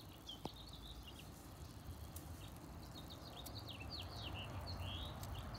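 Several birds chirp and tweet in short bursts over a soft outdoor background hiss at a mountain forest meditation site, fairly distant and quiet.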